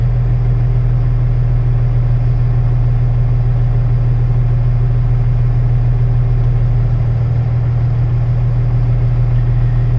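A semi truck's diesel engine idles during a DPF regeneration, giving a steady, loud, close low rumble with a constant hum that stays unchanged throughout.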